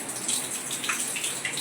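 Water runs from a tap into a bath, a close, steady hiss and splash of flowing water lasting just a moment with no voices.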